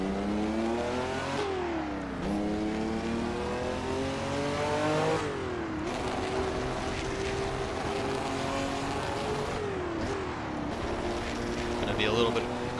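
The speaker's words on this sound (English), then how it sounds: "We're letting the clutch out, giving it a little bit of throttle along the way, and we are getting underway here at Monza." Ferrari 312/67 racing engine in the Assetto Corsa video game pulling away at Monza, a loud revving whine climbing through the rev range with several pitch drops at gear changes, while someone talks over it.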